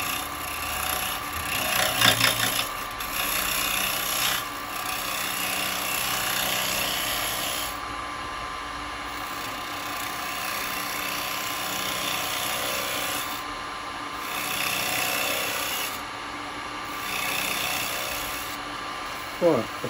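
A wood lathe turns a spalted beech bowl while a carbide chisel cuts it, giving a steady, gritty scraping and rasping for about twenty seconds that swells and eases as the cut varies, heard close up.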